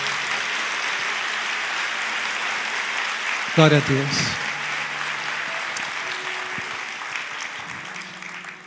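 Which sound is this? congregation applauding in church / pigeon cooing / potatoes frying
congregation applauding in church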